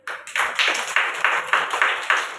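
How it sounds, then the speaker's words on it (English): Children clapping hands together in a preschool class, about eight sharp, evenly spaced claps in a steady rhythm, close and fairly loud. "clapping"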